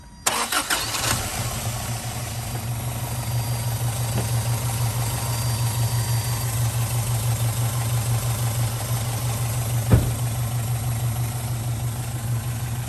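A 1985 Toyota truck with a 22RE engine and stock muffler cranks briefly, then settles into a steady, even idle, close and alone, with one sharp knock partway through.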